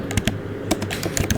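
Rapid, uneven keystrokes on a computer keyboard while Java code is typed, close up, clicks clustered in short bursts with pauses between.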